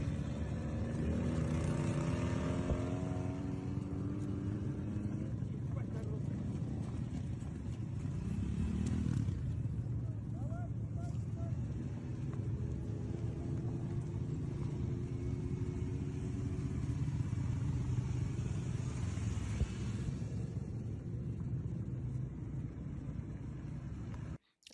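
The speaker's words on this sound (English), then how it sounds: "Lots of the infantry on motorcycles." Motorcycles carrying infantry in foggy wartime conditions produce a steady, continuous engine drone and rumble that holds loud throughout, with a shifting higher whine rising and falling over the low roar.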